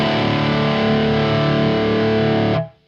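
A loud, sustained distorted electric guitar chord ringing through an amp, miked with a Shure SM57 moved far back, giving a roomy, distant tone, then abruptly cut off.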